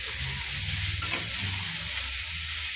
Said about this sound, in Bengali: এ দেখো, ভাজা ভাজা করছি, চাপা দিয়ে দিয়ে ভাজছিলাম।